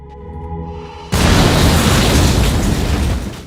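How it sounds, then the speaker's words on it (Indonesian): A bomb strapped to a man detonates in a war film, a sudden, very loud boom that cuts through a low droning score and leaves a dense roaring rumble that fades over about two seconds. "mereka menemukan satu orang yang sudah dipasangi bom dan saat itu juga langsung meledak"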